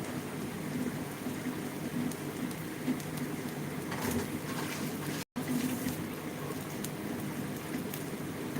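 Heavy rain falls steadily outside, a dense continuous hiss with low rumbles of thunder underneath, close and loud throughout with one brief dropout midway; no one speaks.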